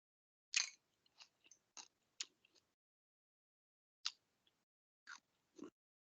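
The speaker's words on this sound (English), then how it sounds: "Am I chewing in your ear?" Someone chews chili and chips close to the microphone, a series of short, crisp crunching bites in irregular bursts separated by quiet pauses, with no talking.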